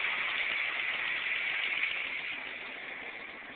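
A propane-fuelled engine idles after the idle is tuned down, giving a steady, even drone with no talk over it.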